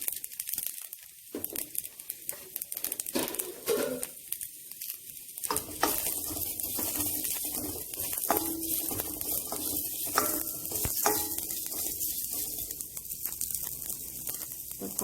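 Onions sizzle and crackle in hot oil while a spicy Chettinad soya gravy is cooked, starting quietly with a few pops and settling into a steady, close frying hiss.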